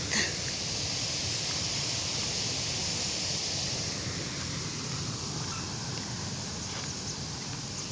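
Wind blows steadily, a broad rushing hiss buffeting the microphone, with no voices and no letup.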